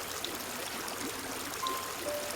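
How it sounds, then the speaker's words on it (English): Running water of a stream in Animal Crossing: New Horizons makes a soft, continuous, even rushing trickle that holds steady throughout, with no talking. "take in the sounds of the running water and all the music"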